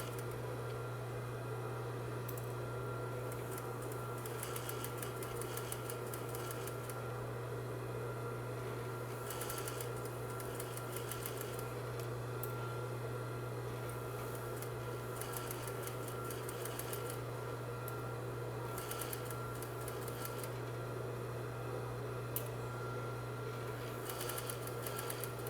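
Sewing machine running a top stitch through all the fabric layers of a flat fell seam, a steady close mechanical hum with fine rapid needle ticking that carries on without pause.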